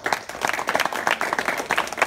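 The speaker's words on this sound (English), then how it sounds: "Give a round of applause, everyone." Audience applause at a live close-up magic night, a dense, steady round of clapping from a small crowd, fairly loud and close, lasting a couple of seconds without voices.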